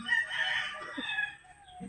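A rooster crows close by in one drawn-out, strained call that fades, followed by a few soft low clucks from the chicken.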